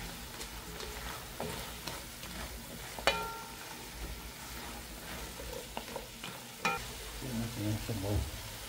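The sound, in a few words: sautéing food in a pan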